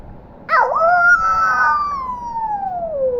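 A person's voice imitates a jackal howl: one sudden wavering cry that settles into a long, slowly falling, drawn-out wail, loud and close with no other sound.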